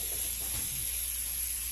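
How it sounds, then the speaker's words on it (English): A steady, loud air hose hisses as it blows brake cleaner off McCulloch SP81 chainsaw parts, a continuous broadband rush lasting the whole moment with no break and no talking. "use a little brake cleaner, a little air hose,"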